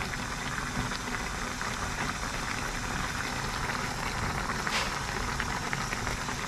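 Liver simmering in a pot of boiling water, a steady dense bubbling and popping that runs unbroken and fairly close, with no voices over it.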